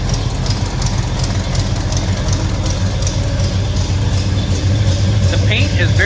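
A 1969 Pontiac Le Mans convertible's 455 V8 idles steadily close by, a deep continuous rumble with a slight exhaust tick, while someone talks over it.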